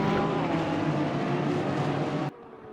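Race cars circling Spa-Francorchamps during a 24-hour race in a sim racing game, a dense, loud engine roar from a pack of cars held steady, then cutting off sharply to a quieter hum near the end.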